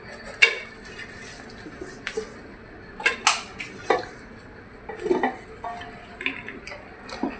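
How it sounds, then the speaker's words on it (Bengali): Raw onions tipped into a pressure cooker while cooking mutton biryani, giving a scatter of light clinks, taps and metal knocks against the pot at irregular intervals, close and fairly soft, with no talking. "প্রেসার কুকারে পেঁয়াজ দিয়ে দেব।"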